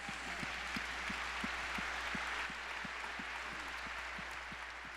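A congregation applauds at a faith forum, a faint, even clapping wash carrying on for several seconds with a low steady hum and regular soft thumps underneath.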